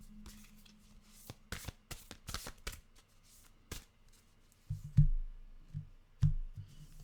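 Oracle cards shuffled by hand in a quiet room: soft papery riffles and flicks come in bursts, with a few sharper slaps and taps near the end, close and fairly faint.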